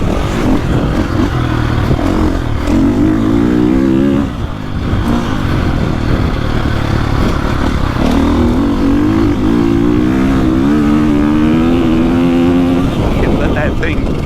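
A 2024.5 KTM 450 Factory Edition dirt bike engine drones loud and close throughout, rising and falling as the rider works through woods and jumps on a motocross track, with a brief dip in the middle.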